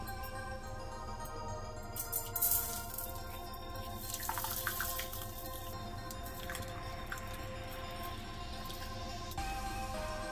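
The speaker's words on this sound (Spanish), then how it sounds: "Coloca un puñado de sal y echa agua caliente" Hot water mixed with a handful of salt pours and gurgles into a clogged drain, with splashing bursts and a steady running flow, no voices.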